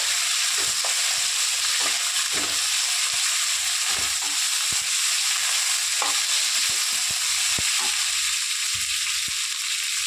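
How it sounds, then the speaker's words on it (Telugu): Sliced ivy gourd lightly frying in oil in a pan, a steady close sizzle throughout with repeated stirring scrapes and clinks of a utensil against the pan. "ఎక్కువ ఫ్రై అవసరం లేదండి లైట్గా ఫ్రై అయితే సరిపోతుంది"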